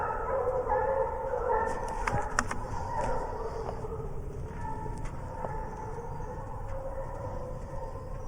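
Hunting dogs bark and yip in the distance during a spring bear hunt outdoors, a chorus of faint, overlapping cries over a constant background hiss.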